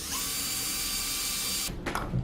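Power drill boring small holes into a pumpkin lantern, a steady close whine that cuts off abruptly near the end, followed by a couple of soft handling knocks.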